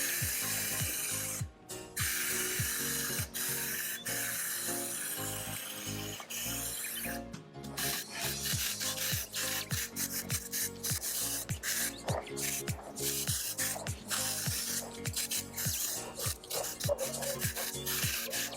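Plasti Dip wet coats are sprayed onto a factory car wheel in solid black with silver metallic, heard as a close, steady aerosol hiss broken by repeated short rattling, scraping bursts over about eighteen seconds.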